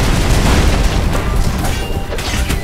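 A missile explosion in the video game Loopmancer booms loudly and continuously, a dense rumbling blast with crashing debris sustained across the whole moment, with no voices over it.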